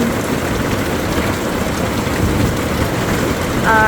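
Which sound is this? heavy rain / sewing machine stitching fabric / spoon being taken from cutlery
heavy rain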